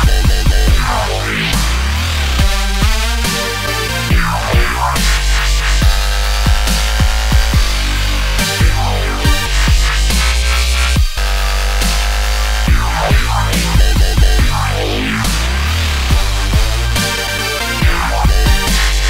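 A heavy dubstep track with progressively crazier synth sounds, thick wobbling bass and dense, loud electronic layers that pulse and sweep continuously for nearly twenty seconds, with no talking.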